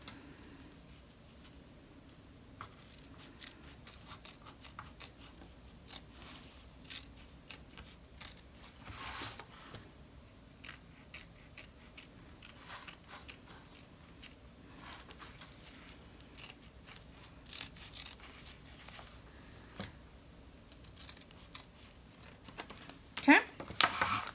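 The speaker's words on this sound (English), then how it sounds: "It was harder for the scissors to get there because I have this fabric here" Scissors trim the fabric seams of a zipper bag, giving quiet irregular snips and clicks close by while a person talks over the faint, low background.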